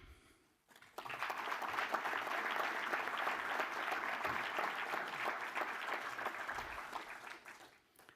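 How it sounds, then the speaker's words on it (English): Sustained audience applause for a guest speaker at the inaugural day of the SSL Gold Cup 2022 sailing event, starting after a short quiet moment and holding steady and fairly distant for several seconds before tapering. "Please applause for our next guest, Mr. David Graham."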